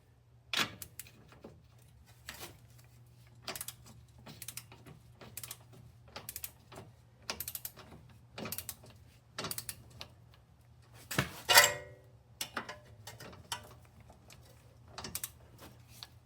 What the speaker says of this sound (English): Now it's 115 foot-pounds with the torque wrench.